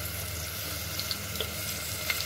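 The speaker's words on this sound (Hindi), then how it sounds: "इसमें हम डालें आलू प्याज और फिर थोड़ा सा टमाटर डाल देंगे" Potatoes and onions frying in a pan, a steady soft sizzle throughout with a few faint clinks near the end.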